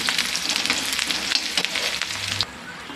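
Fenugreek leaves dropped into a pan of sautéed onions give a loud, steady sizzle with crackling bursts and light stirring scrapes that ease off near the end.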